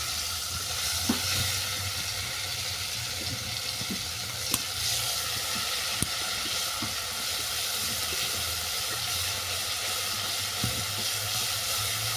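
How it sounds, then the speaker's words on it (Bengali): Panch phoron spice paste fries in hot oil with dried chillies for a pabda fish tamarind curry, giving a steady close sizzle and hiss with a few sharp pops and stirring clicks. "পাঁচ ফোড়নটাকে ভালো করে ভেজে নেবো"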